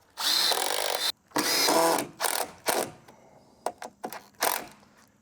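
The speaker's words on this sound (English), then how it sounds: "We're going to screw this to the front of it" A power drill drives screws into a luan board for a boat cabin build, two long whirring runs followed by several short, close bursts and stops.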